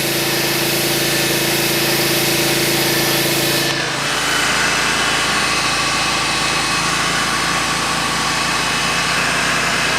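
A pressure washer with a surface cleaner works across a concrete pool deck, giving a loud, continuous engine drone and rushing spray throughout, with a brief shift in tone partway through.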